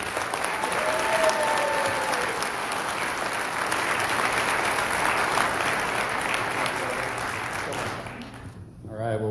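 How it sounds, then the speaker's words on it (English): A crowd at an Idaho gubernatorial candidate forum on the Second Amendment gives sustained, full applause, a thick roar of clapping for about eight seconds with voices faint underneath, ending abruptly. "big round of applause for Greg Pruitt"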